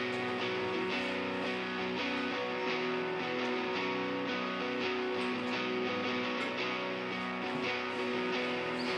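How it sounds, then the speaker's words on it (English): Double-tracked electric guitar on the neck pickup of a custom green guitar with a Strat-like tone, playing a dense continuous part at steady moderate level for about nine seconds without any voice. "So essentially double tracked, it sounds like this"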